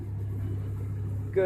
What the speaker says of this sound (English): Did you hear the truck just lugged?